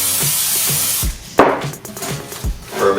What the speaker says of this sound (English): you can just use some cooking spray